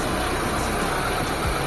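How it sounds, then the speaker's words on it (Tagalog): Repaired Mitsubishi Lancer engine idling quietly and steadily, a smooth even hum with a faint hiss and no talking over it. "Napakatahimik na ng makina niya mga boss."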